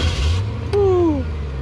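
A 2021 Chevrolet Corvette sports car runs with a deep, steady low rumble that lasts throughout. A brief whine falls in pitch partway through, and a faint voice is barely present.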